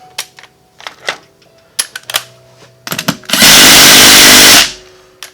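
A 17mm socket wrench torquing fittings held in a vise on an old Cummins CP3 pump: several sharp metallic clicks and taps, then a loud burst of steady power-tool whirring lasting about a second, close and alone.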